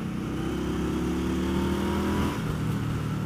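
A 2015 Indian Scout motorcycle with a Stage 1 package accelerates hard, its engine note rising steadily in pitch through the gears before dropping briefly at a shift, loud and close with no talking.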